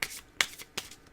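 Tarot cards being cut by hand, giving three quick, soft papery riffles spaced evenly apart, fairly faint and close, with no talking.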